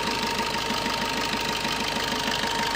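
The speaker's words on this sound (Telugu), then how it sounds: "ఇంజన్ సౌండ్ కూడా బాగుంది" A 2018 Maruti Suzuki Baleno engine idling, a steady close rhythmic mechanical hum with even pulsing and no speech.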